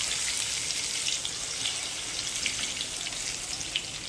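Finely chopped garlic sizzling in hot oil with cumin and asafoetida for dal tadka, a steady close hiss with small crackling pops, alone and without talk.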